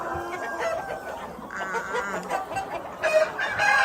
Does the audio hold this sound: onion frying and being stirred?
no